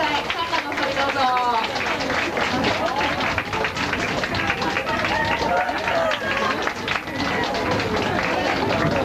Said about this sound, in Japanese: カンナの登場ですので、温かい拍手でお答えください。